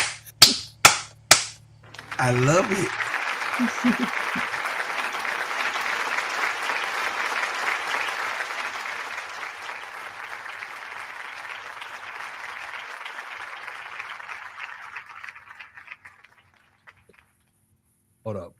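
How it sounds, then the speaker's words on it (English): An audience applauds Paige at a basketball show after a few sharp single claps, then dense, loud clapping swells and slowly fades to near silence over many seconds; a voice speaks briefly at the opening. "Y'all give Paige a round of applause."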